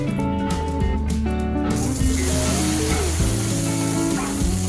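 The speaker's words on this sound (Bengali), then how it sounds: "আমি প্রথমে পটলগুলো ভেজে নেব" Slices of pointed gourd (potol) fry in hot oil in a wok, a steady sizzle that grows denser partway through, running under loud background music.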